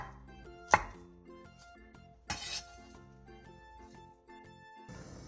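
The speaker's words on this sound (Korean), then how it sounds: "빨간 파프리카 1개, 노란 파프리카 1개, 피망 1개로 어묵과 비슷한 두께로 채 썰어주세요." Red and yellow paprika and a green pepper being cut into strips with a knife, two distinct chopping thuds against the board over quiet background music.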